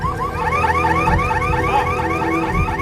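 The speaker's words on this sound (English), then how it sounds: "From the ruins comes a shrill symphony of car alarms." Several car alarms wail at once from the ruins of a collapsed apartment block, shrill repeating up-and-down tones overlapping loudly and close, with no voices.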